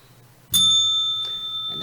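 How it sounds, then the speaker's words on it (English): A single bright bell strikes once and rings on with a sustained metallic tone, after a speaking voice and with faint talk at the end. "And that bell just tolled for somebody."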